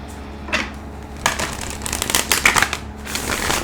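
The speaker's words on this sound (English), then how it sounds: "One more shuffle and we're ready to go." Tarot cards are shuffled in a few quick riffling bursts, close by and fairly soft, with brief pauses between them.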